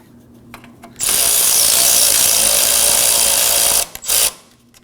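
Power tool tightening a bolt on a rear control arm bracket of a 2017-2024 Nissan Armada: a loud, steady whir for about three seconds, then a brief second burst, with no talking.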